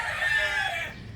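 Chickens and chicks clucking and murmuring close by, a steady brief burst of bird calls with no talking.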